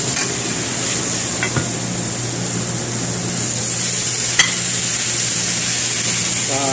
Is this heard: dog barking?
no